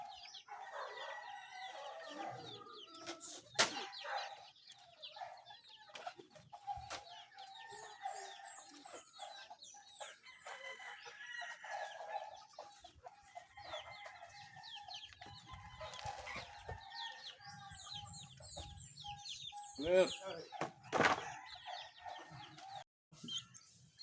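Roosters fighting, clucking and squawking in a busy, agitated flurry with sharp wing-flapping bursts, close by, with bird chirps scattered in the background.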